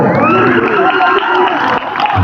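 Spectators at a Patna versus Gaya cricket match roar and cheer after a sharp fielding stop, a loud dense crowd noise with shouting voices throughout.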